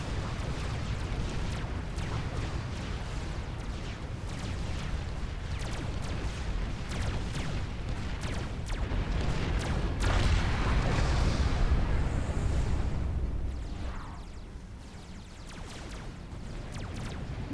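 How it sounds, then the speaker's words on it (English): Salvation artillery firing in the real-time strategy game Supreme Commander: Forged Alliance, a dense continuous rumble of repeated booms and distant blasts, loud and sustained throughout and swelling slightly before easing. "My friends, we are seeing defensive Salvation fire."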